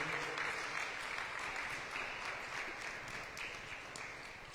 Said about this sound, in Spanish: ¿Por qué no le damos un aplauso a ese Dios todopoderoso?